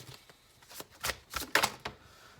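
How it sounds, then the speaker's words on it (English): Oversized Sola Busca tarot cards riffled and shuffled by hand in a few quick papery bursts, close and moderately loud, with no voices. "these cards are a lot larger than I'm used to shuffling"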